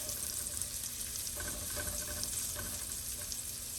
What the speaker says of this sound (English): So I'm just going to coat these, fry them up a little bit